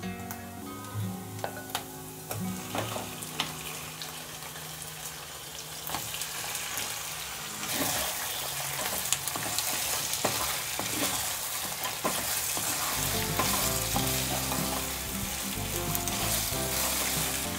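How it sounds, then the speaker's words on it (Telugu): Mutton chops sizzle and fry in a pan with fried onion, steady loud crackling frying close by, with stirring scrapes and clinks throughout and a deeper rumble joining near the end. "ఇప్పుడు మటన్ చాప్స్ వేసుకుందాము."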